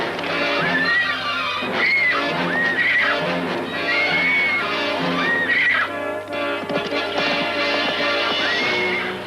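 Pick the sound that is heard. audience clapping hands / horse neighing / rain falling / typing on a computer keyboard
horse neighing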